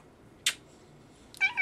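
A pet cat makes a quick short chirp, then after a pause lets out a clearer rising meow, both close and fairly quiet over near silence.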